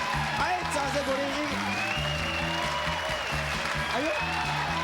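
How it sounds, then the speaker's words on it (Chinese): A television variety show studio audience applauds steadily under playing music and a host's voice, the clapping sustained across the whole moment. "掌声鼓励"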